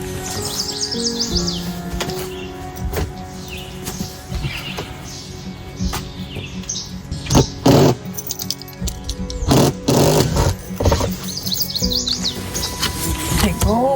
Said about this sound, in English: Hey, go away, Satan bird.